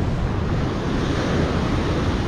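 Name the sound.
ocean waves on beach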